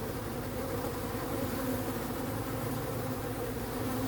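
Honeybees buzz steadily around a beehive on a quiet afternoon, a dense, continuous hum of many wings close by with no voices.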